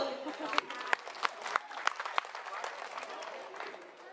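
An audience at an Islamic sermon for the Prophet's birthday gives a short, moderate burst of applause, with several sharp claps standing out early before it thins and trails off.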